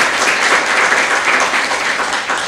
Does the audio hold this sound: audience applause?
yes